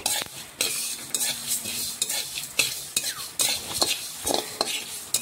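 A spice mix dry-roasting in a pan over gentle heat, stirred with repeated scraping strokes that come in uneven bursts, each with a soft crackle, close and fairly loud.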